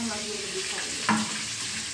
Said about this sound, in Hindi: मछली धुला हुआ रहता है, उसमें पानी रहता है, तेल में डालने के बाद छींटा मारता है